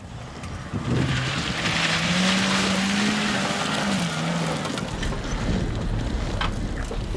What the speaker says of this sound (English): Nowadays, he drives a tiny but souped-up Suzuki Jimny.